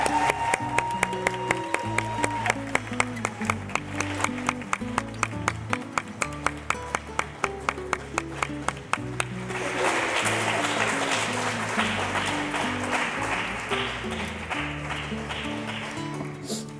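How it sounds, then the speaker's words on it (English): A high school graduation audience gives a round of applause that swells midway into dense clapping, over rhythmic music already playing beneath. "let's give all of our candidates tonight a big round of applause"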